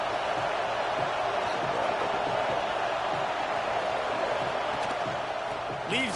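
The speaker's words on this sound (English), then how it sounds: "This crowd ready to make its presence known." A stadium crowd at a Texas college football game keeps up a steady, dense roar throughout, with a commentator's voice running over it.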